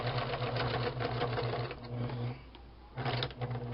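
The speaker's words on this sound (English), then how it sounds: "So now I'm just finishing up stitching right on the edge" A sewing machine stitches right along a fabric edge with a close, rhythmic mechanical hum and clatter, easing off briefly near the end before starting again.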